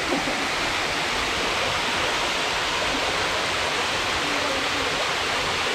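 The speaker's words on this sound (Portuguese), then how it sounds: "Então uma queda d'água ali dentro." Waterfall falling inside a rock grotto in a nature park at Monte Verde, a constant, even hiss-like roar of falling water, steady and close with no pauses.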